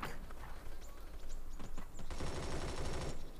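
Saiga 12K shotgun gunfire in the mobile shooter game Bullet Force: quick bursts of rapid shots, then a dense stretch of continuous firing, played through game audio at a moderate level.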